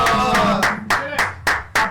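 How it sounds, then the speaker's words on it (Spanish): Sharp hand claps in a steady, uneven rhythm ring out in a live studio stream, close and fairly loud, with a voice talking over them. "¡Aplausos!"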